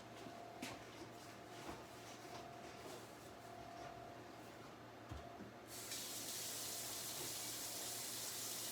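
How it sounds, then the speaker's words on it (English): Tap water running over hands in a home kitchen while cooking chicken and dumplings, a faint steady hiss that grows louder and brighter partway through, with a low background hum. "Let me wash my hands."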